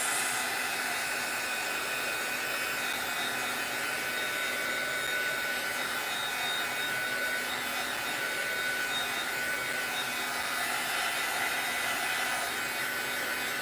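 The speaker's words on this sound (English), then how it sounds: "And I'm going to dry this one. You can blow it around," A hair dryer blows in a continuous, even whoosh, loud and close, holding steady without a break and with no voices over it.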